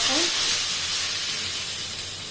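Sizzling tempering of hot oil with cumin, asafoetida and curry leaves poured over a cucumber salad gives a loud burst of steamy hiss that slowly fades while staying close and steady.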